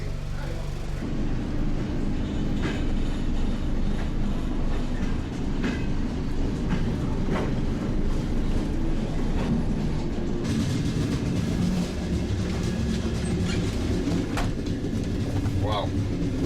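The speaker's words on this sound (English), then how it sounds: "a real Soviet electrichka" A Soviet-era electric commuter train leaving Kyiv rumbles along continuously with rhythmic clicking of wheels on rails, loud and close from inside the carriage, with faint voices now and then.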